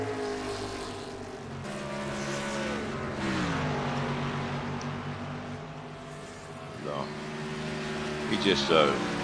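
Race cars at Dover during a Friday night short-track event, engines droning and shifting pitch continuously with a steady, fairly loud roar and occasional passing surges, while commentators talk over it.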